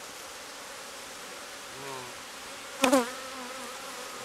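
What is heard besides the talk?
honeybees buzzing at an open beehive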